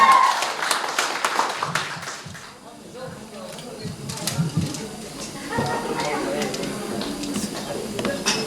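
Wedding guests at a Moscow cafe applaud in a scattered burst of clapping that fades, followed by crowd chatter and talk in the hall.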